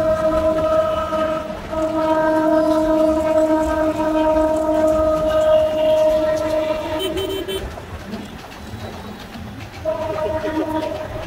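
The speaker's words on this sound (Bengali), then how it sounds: "ট্রেন যাচ্ছে।" A train rolls past near an elevated road under construction in Dhaka, its long steady horn tone sounding over a continuous rumble that eases and then returns.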